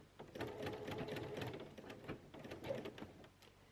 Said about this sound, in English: So I'm going to just backstitch at the beginning.